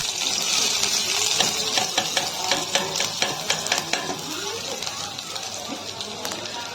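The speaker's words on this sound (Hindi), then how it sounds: "अब डाल देता हूँ लहसुन प्याज में।" Garlic and onion frying in hot oil in a home kitchen pan, a steady sizzle with repeated sharp clatters of stirring throughout, close and moderately loud.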